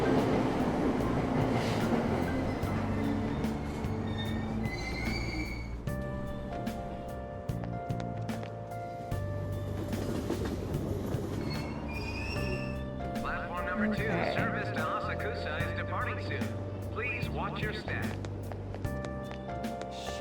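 A train rolls along the tracks, with a steady continuous rumble and rattling, tonal hums and occasional squeals throughout, while a voice talks over it.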